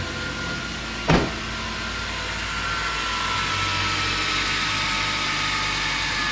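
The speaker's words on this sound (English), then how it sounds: "Our windows work." A brief whirring of a car power window motor, then a steady low engine idle hum continues in the background from a vehicle with 253,000 miles.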